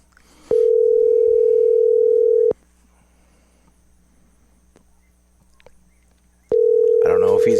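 Ringback tone of an outgoing phone call: two long, steady electronic tones separated by about four seconds of silence, clear and close, with no talking.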